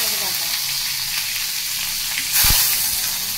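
Onion paste hitting hot oil tempered with cumin and whole spices, a loud, steady close sizzle with a brief surge of hiss and a low clunk partway through as it is stirred.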